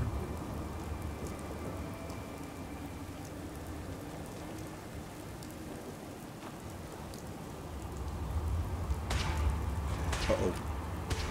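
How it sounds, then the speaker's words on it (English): Rain in the video game Fallout 4 hisses as a steady patter on a rainy morning, swelling slightly louder toward the end with a few sharper bursts. "It's a rainy morning out here."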